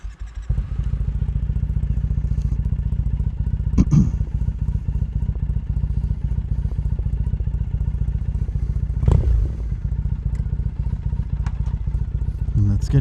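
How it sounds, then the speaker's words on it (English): Triumph Thruxton 900 motorcycle engine starts and settles into a steady, loud idle heard up close, with a couple of brief clunks and revs partway through. "Let's fire up the bike."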